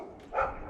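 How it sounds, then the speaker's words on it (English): A neighbor's dogs give a single short bark close by, brief and moderately loud against a quiet background. "my neighbor's dogs are saying hi."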